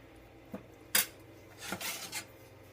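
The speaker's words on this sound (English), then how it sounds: "I want to take my spoon and kind of move everything around so that that broth can get down in there" A spoon scraping and stirring chicken pot pie filling in a dish, heard as a few scattered clinks and rubbing scrapes with quiet gaps between.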